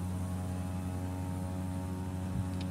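A single-engine Cessna 208 Caravan turboprop in FSX running at takeoff power during a go-around, giving a steady, loud drone with a constant low hum and no voices.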